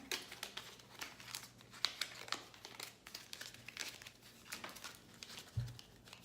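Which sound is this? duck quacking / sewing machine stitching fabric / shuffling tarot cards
shuffling tarot cards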